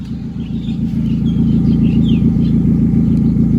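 A Honda City sedan with an automatic gearbox idles evenly, giving a loud, close, continuous low hum. Faint bird chirps sound in the background.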